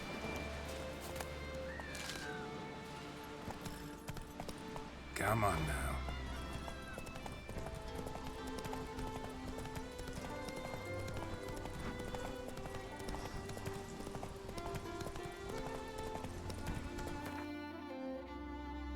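Roach the horse gallops in The Witcher 3, with a rhythmic clip-clop of hooves and game music beneath. Someone talks over the hoofbeats.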